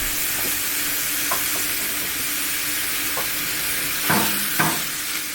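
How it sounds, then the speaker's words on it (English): Minced beef sautéing in a skillet with a steady, fairly loud hiss of frying close by, broken by a few scraping spatula strokes, two of them sharper near the end. "We want to saute this until it's brown all over."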